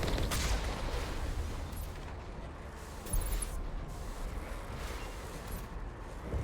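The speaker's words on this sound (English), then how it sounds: "How are you shooting through the barrier?" Bursts of gunfire from the Mass Effect Legendary Edition game crackle through a dense, noisy battle mix, with a sharper shot near the start and another around the middle, no talk heard.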